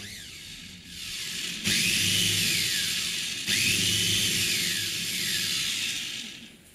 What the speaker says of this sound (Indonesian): Blend atau proses semua bahan kuah menjadi satu hingga halus dan tercampur rata.